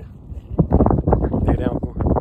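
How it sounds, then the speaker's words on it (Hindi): Strong wind gusting across a mountaintop at Patnitop in Jammu and Kashmir, roaring loudly and continuously against the microphone in buffeting bursts for the whole stretch. "हवा चल रही थी ज़बरदस्त"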